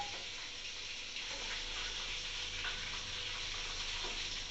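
Chicken pieces frying in oil for Telangana-style pickle while being stirred continuously, a dense steady sizzle with faint scraping of the spoon, close and loud, no voices.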